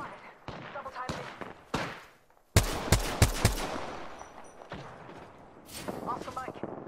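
Gunfire in the video game Apex Legends: several sharp, loud shots and short bursts scattered across the moment, with voices talking in between.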